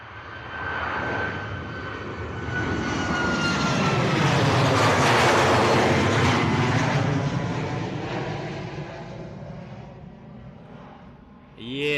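An airliner takes off in a crosswind at Bristol Airport, its engine roar swelling to a loud peak, then fading with a passing pitch sweep as it climbs away.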